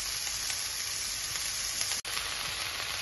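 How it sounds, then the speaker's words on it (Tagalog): Celery frying in a pan with onion and ginger gives a steady, close sizzle with a continuous bright hiss. It holds level throughout, with no talk over it. "now I little fry the celery together with the onion and ginger"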